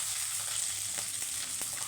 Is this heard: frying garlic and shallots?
yes